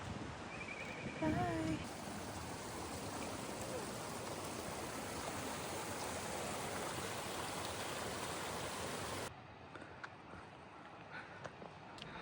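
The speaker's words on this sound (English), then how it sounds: "that's the waterfall that I have to climb over." Steady rushing water of a waterfall on an alpine lakes hike in Rocky Mountain National Park, a loud continuous broadband roar that drops noticeably in level near the end, with faint wind and brief activity near the start.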